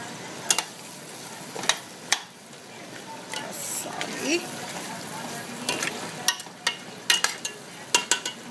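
Onion cooking with meats in a pot for okra stew, a gentle sizzle under frequent sharp clinks and scrapes of a utensil against the pot, with brief talk in between.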